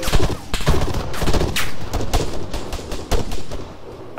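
Rifle fire crackles in the Arma 3 military shooter, a rapid series of sharp, close shots and bursts mixed with more distant cracks in an irregular, busy rhythm.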